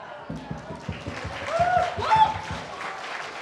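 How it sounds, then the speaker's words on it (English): Clapping from a crowd rises and swells, steady and moderately loud, with some voices mixed into the applause. "let's give a round of applause to everyone sitting in the audience"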